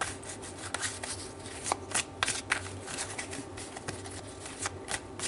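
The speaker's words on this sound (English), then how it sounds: "let's draw some tarot." Tarot cards are shuffled by hand, a continuous close riffling and slapping with repeated sharp flicks as the deck is cut and mixed, steady and fairly quiet, with no talking.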